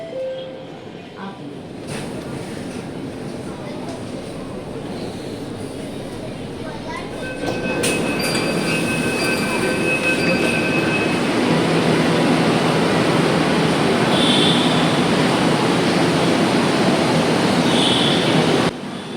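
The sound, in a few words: riding the Mumbai metro train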